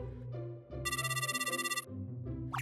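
A house telephone rings in a home with one sustained electronic trill lasting about a second, clear and close, set among quieter background sounds.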